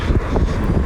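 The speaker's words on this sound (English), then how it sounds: "it's absolutely wonderfully windy here" Steady wind buffeting a phone microphone outdoors beside a parked Can-Am Spyder RT-LTD motorcycle, a continuous low rumbling roar with gusty swells and no voices.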